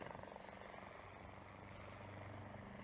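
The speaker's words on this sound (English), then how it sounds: "It's a plane. Well, it can't be. Wait. There it is. Look, there. A helicopter." Helicopter flying overhead as a sound effect in a classic science-fiction radio drama, a continuous rapid rotor chop with a low engine drone, steady and moderately loud, no voices over it.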